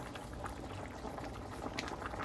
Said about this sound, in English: You gotta let it simmer down, bring all that liquid down.